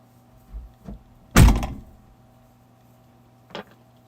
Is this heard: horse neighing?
no